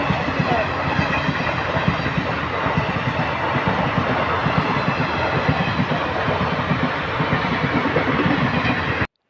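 A train rumbles steadily through a railway level crossing, loud and close, its wheels clattering in a continuous rhythm for several seconds before it cuts off.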